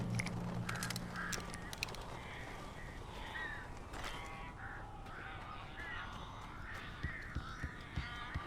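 Crows cawing in the game Alan Wake Remastered, a series of harsh repeated caws over a low ambient hum, moderately close and fairly quiet.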